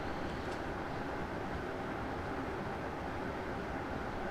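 A BR Class 325 train runs along the West Coast Main Line, heard from inside the cab: a steady, loud rumble and broadband roar with no pauses or spoken voices.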